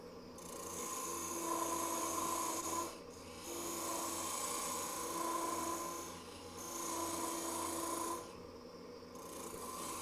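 Lathe at a woodturning club meeting running at about 2,000 rpm, with a steady whirring hum and raspy cutting in three long passes separated by brief dips, no talk.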